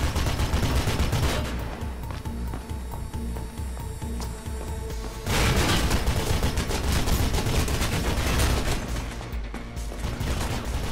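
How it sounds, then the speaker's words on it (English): Sustained gunfire in Mirror's Edge, rapid automatic bursts crackling loudly and continuously for several seconds, with a brief lull before the shooting resumes just as intense. "Where are the shots coming from?"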